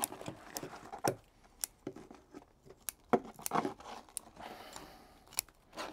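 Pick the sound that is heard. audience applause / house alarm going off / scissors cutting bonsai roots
scissors cutting bonsai roots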